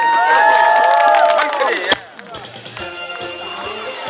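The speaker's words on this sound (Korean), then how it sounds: "박수 부탁드립니다." A crowd claps and cheers before a trot medley at an outdoor performance, loud at first over music-like tones, then thinning into scattered, lighter clapping after a sharp hit midway.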